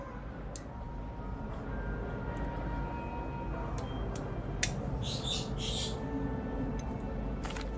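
Birds chirp and squawk in short calls around a library in the Hogwarts Legacy video game, set against a steady ambient bed of game background noise with occasional small ticks.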